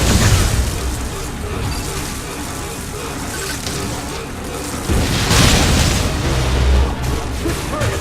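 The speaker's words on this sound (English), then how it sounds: "Now, use your missile!" A missile fired and exploding in the Metroid Other M video game: dense booming blasts over a busy game soundtrack, with a heavier burst about midway, loud and continuous.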